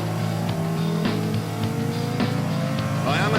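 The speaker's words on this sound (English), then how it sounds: "Masses of wheel spin off the line down to the first corner." A Porsche Carrera GT with a V10 launches hard off the line on a track with heavy wheel spin, its engine note loud and rising steadily and climbing toward the end, with tire noise underneath and no talk.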